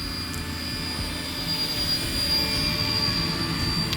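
Brushless XK K124 EC145 scale RC helicopter flying outdoors, including inverted flight, giving a continuous high-pitched motor whine with a steady rotor whoosh, fairly loud and constant throughout, without speech.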